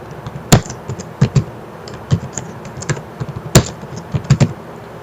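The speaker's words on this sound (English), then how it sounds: "I will type here" Close, crisp keystrokes on a computer keyboard come in an irregular run of taps with short pauses, with no voices.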